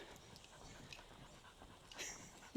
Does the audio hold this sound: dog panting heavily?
yes